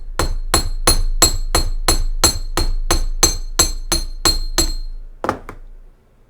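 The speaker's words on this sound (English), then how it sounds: "get down here on my block and hammer it" Steady metallic hammer strikes on earring wire, about a dozen evenly spaced ringing taps on a bench block, close and loud, ending with a couple of lighter clinks.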